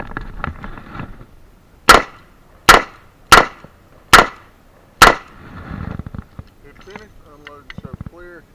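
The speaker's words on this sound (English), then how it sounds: "This is going to be 4 shots to the body, 1 shot to the head." Five sharp revolver shots crack out at an IDPA pistol match, evenly spaced under a second apart, loud and close, with faint talk before and after the string.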